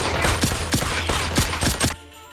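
Hunting rifle fire in the Fortnite VR video game sounds as a rapid string of about six sharp, loud in-game gunshots over roughly two seconds before cutting off.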